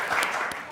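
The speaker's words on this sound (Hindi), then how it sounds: "सब तालियां होनी चाहिए सबके लिए" Studio audience applause during a Ramzan special TV transmission, a brief steady patter of clapping lasting under a second, moderately loud with no clear voices over it.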